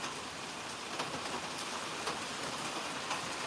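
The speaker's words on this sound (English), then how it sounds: "It's raining here, bro." Rain falls outside onto a corrugated, powder-coated roof, a dense, steady patter with scattered sharper drops, constant and moderately quiet, with no voices.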